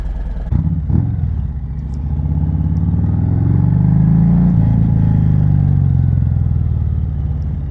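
A 2020 Harley-Davidson Sport Glide's Milwaukee-Eight engine rumbles low and deep close by, rising steadily as it accelerates while riding, then settling into a throaty cruise.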